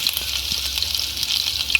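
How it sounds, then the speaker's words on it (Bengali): Whole cumin seeds and chopped garlic crackle in hot oil, a bright continuous sizzle with small pops that stays loud and close throughout, with no voices. "তেলটা হয়ে গেছে, এবার দিয়ে দেবো গোটা জিরে, দিয়ে দেবো রসুন কুচনো"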